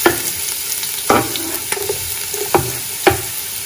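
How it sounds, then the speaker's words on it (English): Steady, loud sizzling of onions and garlic frying in a hot pot for Nigerian jollof rice, with a few sharp scraping stirs breaking through the constant hiss. "We got sizzling sound that we want."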